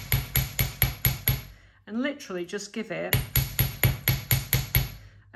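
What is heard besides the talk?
chasing hammer tapping wire jewellery component on bench block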